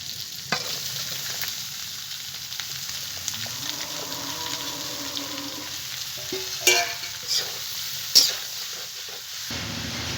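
Chopped bottle gourd goes into a hot pan for a prawn curry and fries with a soft, steady sizzle, broken by a few sharp stirring clanks of a utensil against the pan.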